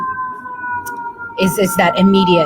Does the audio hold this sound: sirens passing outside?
yes